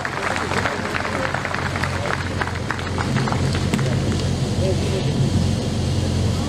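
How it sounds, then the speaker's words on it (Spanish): A crowd applauds Bishop Antonello Mura of Nuoro, Italy, at a church gathering. Dense, steady clapping continues under an announcer's voice over a loudspeaker. "Renovamos los aplausos para Monseñor Antonello Muro"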